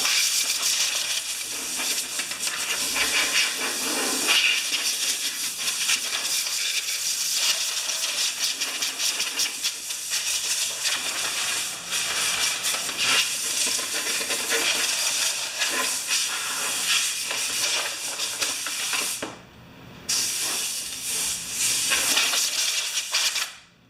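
Compressed air hissing steadily at close range as it blows a mess off a Kohler mower engine, one long continuous blast with a brief break near the end.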